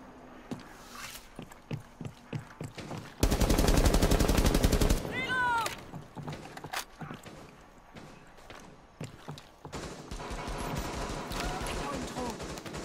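A sustained burst of rapid automatic gunfire in the video game Rainbow Six Siege lasts a couple of seconds, surrounded by scattered shots, thuds and game sound effects, with talking heard throughout.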